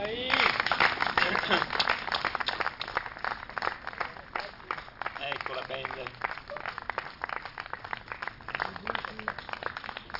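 An Italian concert audience applauds as a band is called onto the stage. Dense, steady clapping runs throughout, loud and close, while a presenter speaks over it.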